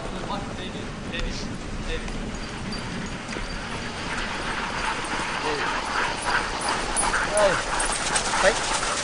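Sled dogs bark, yip and whimper excitedly during a race, a busy chorus of yelps over a steady rushing of runners and movement, with people talking amid the noise.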